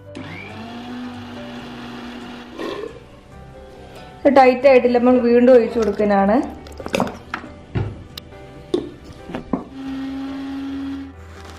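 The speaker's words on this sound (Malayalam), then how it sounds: "ചെറുനാരങ്ങ ഒഴിച്ചിട്ടുള്ളത് ഇനി നന്നായിട്ട് അടിച്ചെടുക്കുക മിക്സി വെച്ചിട്ട്" An electric mixer grinder whips homemade mayonnaise with sunflower oil and lemon juice, giving a loud, whirring burst of a few seconds between stretches of quieter kitchen clatter. Someone talks before and after it runs.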